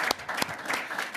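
Brief round of applause in a parliamentary committee meeting room, a short burst of clapping from a small group of members, fairly faint.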